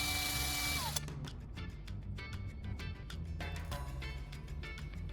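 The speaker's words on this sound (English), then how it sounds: "I'm going to try drilling a hole in this aluminum bar" A worn, dull drill bit grinds against an aluminum bar with a steady, close whirring hum, with brief scraping bursts as the tip skids on the metal surface.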